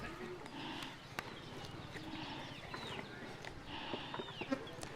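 Aseel chickens of the parrot-beak type on a breeding farm, around a dozen birds, clucking and calling at moderate distance over a steady noisy yard background, with a voice talking now and then.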